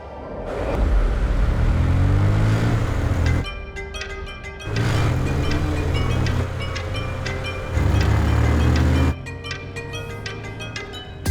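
A car driven fast on a city road with a steady loud engine roar and rushing road and wind noise. Abrupt cuts between segments give it a dramatic film-scene feel, and there is no talking.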